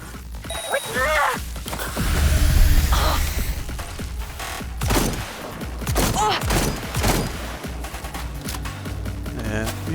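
Shotgun blasts in the video game Cyberpunk 2077, several loud, sharp shots spaced across a busy soundscape, with people talking between and over them.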